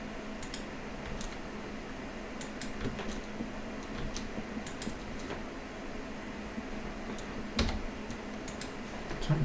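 Computer keyboard keys pressed in irregular bursts of sharp, close clicks while modelling in 3D software, with short pauses between groups of keystrokes and no talk.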